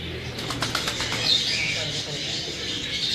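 Pigeons flutter and flap their wings at a breeder's loft in Kasur, a soft rustling burst of wingbeats over a steady hiss of background noise, close by with faint calls mixed in.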